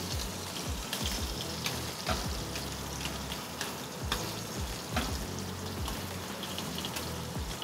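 Butter sizzling and frying in a hot pan, a steady dense crackle with occasional louder pops and stirring clinks, close by and continuous with no talk over it.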